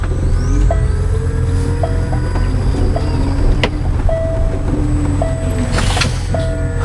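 An electric cart drives with the pedal pressed all the way down and then brakes hard, a continuous close motor rumble with squeaky tonal whines and a sharp clunk partway through.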